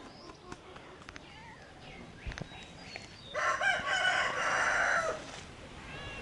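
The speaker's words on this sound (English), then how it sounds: "I apologize for the noisy chickens" A rooster crows loudly near the chicken pens for about two seconds, with scattered clucks and noisy chicken calls before it against a faint outdoor background.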